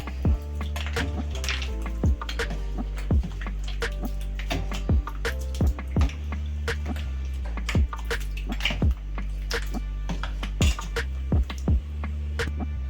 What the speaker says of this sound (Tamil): இப்போ ஃபைனலா இந்த ஐஸ் கியூப்ஸை இதை சேர்த்துடுங்க. சேர்த்துட்டு நல்லா ஒரு மிக்ஸ் பண்ணிக்கோங்க.